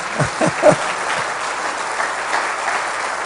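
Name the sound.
congregation applause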